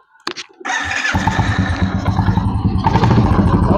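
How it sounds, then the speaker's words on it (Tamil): An old motorcycle engine coughs briefly, then catches and runs with a loud, close, rough clattering idle that holds steady throughout. "ஸோ இதுதாங்க அந்த பழைய வண்டியோட ஒரு சவுண்டுன்னு சொல்லுவாங்க."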